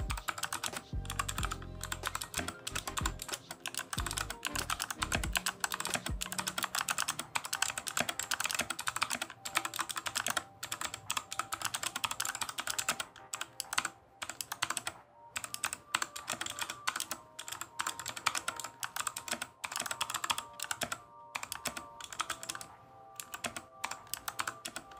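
Mechanical keyboard with Wavik's lineup of switches being tapped, a fast, continuous run of crisp clacks close up, with a few brief pauses between bursts.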